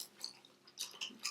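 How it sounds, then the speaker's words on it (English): Crusty baked mac and cheese is chewed close to the mic in a soft, quiet mukbang, with a few crunchy bites spread across a brief moment and no talk. "I love the baked mac and cheese where it's all crusty and crunchy."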